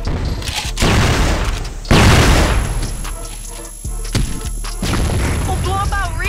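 Flashbang grenades and gunfire in CrossFire: sharp bursts and crashing blasts rise and fall over several seconds, with the loudest hit near the two-second mark and ringing tones afterward.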